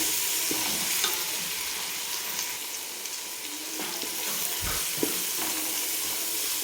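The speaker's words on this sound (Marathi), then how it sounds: "आता आल्या लसणाची पेस्ट चांगली परतून झाली" Ginger garlic paste sautés in oil for a chicken pulav, giving a steady, quiet sizzle with a few soft stirring scrapes and clinks throughout.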